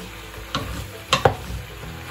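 Pumpkin flesh sweats in a large pot, giving a soft, low sizzle with a few brief stirring knocks and scrapes, close by and quiet.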